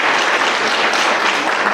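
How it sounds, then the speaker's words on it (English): A school hall-of-fame audience claps for the Hope School Board members, giving a loud, dense burst of applause that holds evenly for the short stretch. "Clap it up for our Hope School Board"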